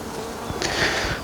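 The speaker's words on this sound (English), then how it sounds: "This is thick with bees." Honey bees buzzing close by as a nuc is moved into a hive, a steady insect drone that swells slightly louder partway through the brief moment.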